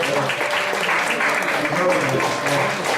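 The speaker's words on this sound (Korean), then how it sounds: "박수 보내드립니다" A church congregation claps for first-time attendees during a Bunker1 worship service, a dense continuous patter of many hands close by, with a voice talking over it.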